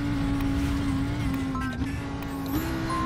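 An Audi R8 GT3 race car engine roars in the iRacing game, a loud steady drone with slight pitch shifts as it holds revs through a corner.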